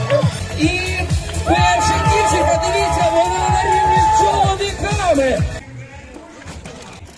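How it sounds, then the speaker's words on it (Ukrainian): At a triathlon finish near Kyiv, a crowd cheers, whoops and shouts loudly and continuously while a voice calls out encouragement over the noise, which drops away abruptly near the end. "Тому зустрічаємо бурхливими оваціями!"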